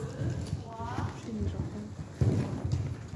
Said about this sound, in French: Tous les chevaux devant, mais bon.